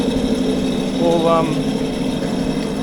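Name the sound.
jet ski engine idling while warming up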